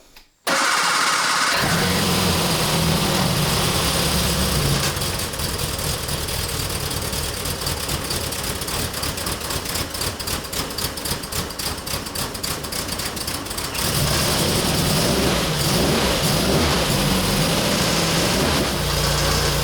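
Triumph sports car engine cranking and catching, then running at a loud, steady idle close by for many seconds with a rough, pulsing tone and no talking.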